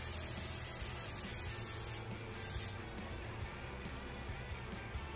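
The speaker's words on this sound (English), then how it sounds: "Angle my airbrush just a little to control the overspray to go that way" A steady, close airbrush hiss sprays paint onto a skateboard deck, continuous throughout with a brief shift in tone partway as the spray angle changes.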